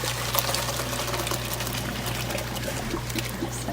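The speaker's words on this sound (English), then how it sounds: "Come over to a sink, dump this into a colander" Cooked broccoli rabe and its cooking water are dumped from a full pot into a colander in a kitchen sink, giving a steady rushing pour and splashing that continues for a few seconds, fairly quiet and close.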